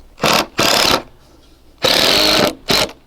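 Close, loud bursts from a power drill driving screws into a galvanized raised garden bed, four short whirring runs of varying length separated by brief pauses.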